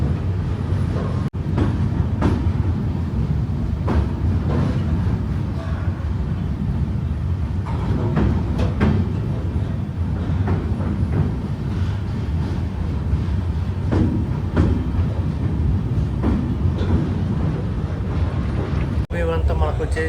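Steady low rumble and rattle of the Kacheguda–Mangaluru weekly superfast express rolling over a bridge, heard from on board, continuous and fairly loud with a few sharper clanks along the way.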